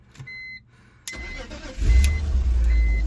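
A BMW E46 with a rough-running engine starts up after a couple of dashboard chime beeps and a brief crank, then settles into a loud, uneven, lumpy idle close by.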